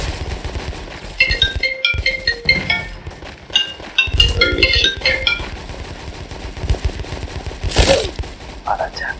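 Volleys of gunfire in a Roblox game pop in rapid clusters, mixed with bright metallic clinks and pings, loud and busy throughout.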